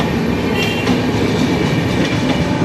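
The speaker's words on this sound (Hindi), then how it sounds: "गोरखपुर तिरुवनंतपुरम जा रही है राप्ती सुपरफास्ट एक्सप्रेस" The Rapti Superfast Express, running from Gorakhpur to Thiruvananthapuram, passes the Daliganj crossing in Lucknow. Loud, close, continuous rail rumble with rhythmic clickety-clack from the wheels and faint squeals, with no voices over it.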